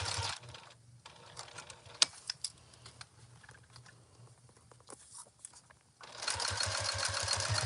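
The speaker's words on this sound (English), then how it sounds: "I just hold it down as I'm sewing, just so I can see what I'm doing" A sewing machine stitches binding onto a tote bag in short bursts of rapid mechanical clatter, separated by quieter pauses with small clicks and handling noises, then a long steady run of stitching close by at the end.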